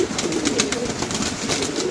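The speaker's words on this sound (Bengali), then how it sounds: "তো এই দেখেন কবুতরগুলো কীভাবে খাইতেছে।" Pigeons feed and coo close by, soft throaty coos repeating over a light background of pecking and rustling, with no voices.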